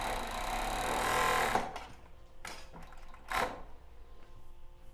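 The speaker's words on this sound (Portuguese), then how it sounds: "Então, ajustei, costurei." A sewing machine stitches elastic onto lace-trimmed boxer-style panties in a short, busy run that stops after about a second and a half, followed by a few scattered handling clicks and taps.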